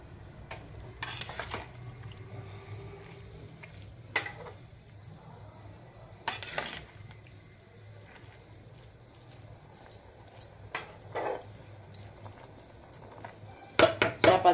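A lid set over a cooking pot of greens simmering in water, several sharp knocks and clatters spread across a quiet stretch, with a soft low bubbling beneath and a burst of rattling at the end.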